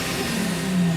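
A supercharged Infiniti G35 engine revs briefly and loudly, its tone climbing steadily within about a second.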